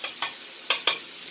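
Fish frying hot in a pan, with a few sharp bursts of spatter and stirring scrapes standing out over a quiet sizzle, close and fairly loud with no voices.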